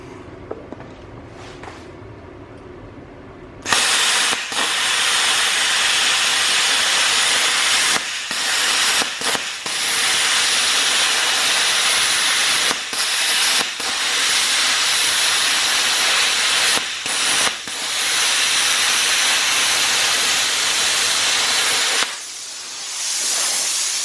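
A BestArc BTC500D Gen 7 plasma cutter cuts through metal with a loud, steady hissing roar that runs for about eighteen seconds. Several brief dips break the roar where the arc falters, and it cuts off sharply at the end.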